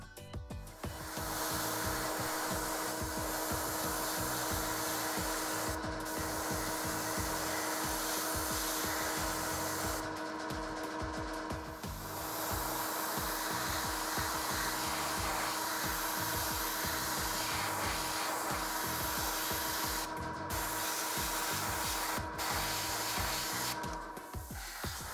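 Airbrush spraying gray paint onto the canopy of a 1/48 scale MiG-29 Fulcrum plastic model kit, a steady close hiss running almost nonstop with a few brief pauses and a constant hum from a compressor.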